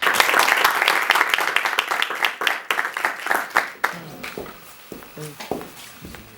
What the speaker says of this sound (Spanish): un gran aplauso a todos vosotros por estar aquí